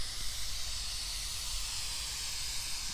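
Fine mist sprays steadily from a garden hose in a backyard, a continuous soft hiss that stays even and fairly loud for the whole stretch with no talking over it.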